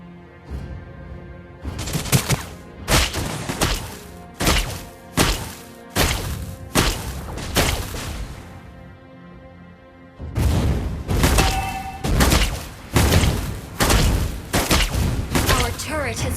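Turret destruction in the mobile game Mobile Legends: a dense run of loud, booming impacts and thuds, several in quick rhythm, a brief pause, then another heavy burst of repeated hits, with in-game voice lines mixed in.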